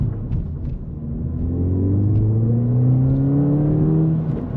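A low-mileage 2017 Ford Fiesta ST with a manual gearbox accelerates hard, its engine and exhaust note rising steadily in pitch over a deep rumble, close and loud with no talking.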